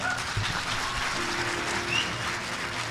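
Audience at a Hindi comedy poetry recital (kavi sammelan) claps together in a loud, continuous burst of applause, steady for the full few seconds with a faint background hum and no speech.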